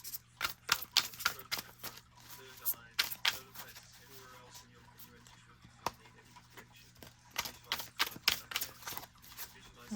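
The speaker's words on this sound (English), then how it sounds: "Okay, I think that's shuffled enough." A deck of playing cards being shuffled at close range, heard as repeated bursts of riffling flutter with short pauses between them, over a low steady hum.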